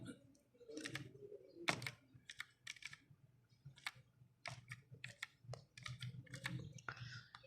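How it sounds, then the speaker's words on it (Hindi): A password is typed on a computer keyboard in close, irregular bursts of crisp keystrokes with short pauses, while birds coo faintly in the background. "मैं पासवर्ड लिखता हूँ जी"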